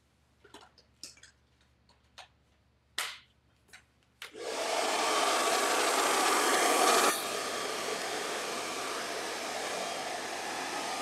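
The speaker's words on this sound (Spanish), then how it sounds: "Aquí está mi secadora, nada más la voy a conectar para que vean cómo se ve." A handheld hair dryer clicks a few times, then switches on with a sudden loud, steady whoosh that drops to a slightly lower setting partway through and keeps running.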